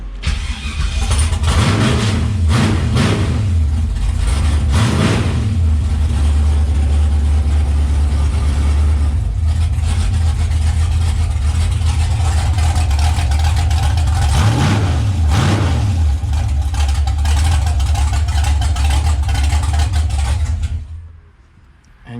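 A 6.0-litre naturally aspirated V8 hot rod engine, its throttle worked by cable, idles loud and close with a deep steady rumble and rises in several quick revs before cutting off at the end.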